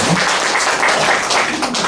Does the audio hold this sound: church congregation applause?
yes